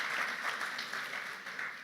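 A church congregation at a Sunday sermon service gives a brief burst of applause. It is soft and fairly distant, with steady clapping that lasts under two seconds.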